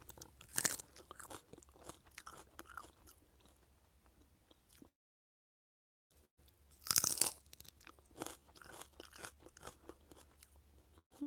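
Crisp extra dwarf pak choi leaves being chewed up close, a series of sharp crunchy bites followed by softer wet mastication, with a brief silent gap between two loud bite bursts.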